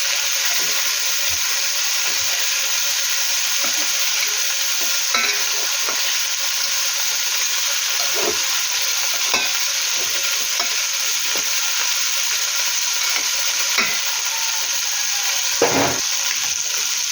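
Biryani rice fries in a pan just after being flipped, giving a constant loud sizzle broken by short scrapes and stirring knocks.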